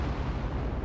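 An explosion of a burning target in the video game Operation Flashpoint, a dense, continuous low rumble that holds steady for the whole moment with no voices over it.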